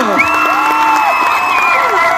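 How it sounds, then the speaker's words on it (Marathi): Audience at a gathering of local YouTube creators in Palghar district, applauding and cheering together; loud, continuous clapping with shouts and whoops over a sustained crowd roar. "समस्त युट्यूब फॅमिली एकदा जोरदार टाळ्या जाऊन द्या"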